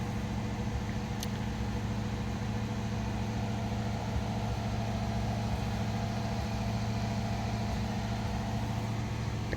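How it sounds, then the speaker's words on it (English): A 1978 Lincoln Continental sedan's engine idles in a steady, even low rumble with a constant hum, heard close and alone with no talk. "Let it idle down here for a second."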